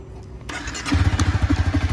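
A used Honda CBR300R motorcycle cranks briefly and fires up, settling into a loud, close, lumpy single-cylinder idle with a steady pulsing beat.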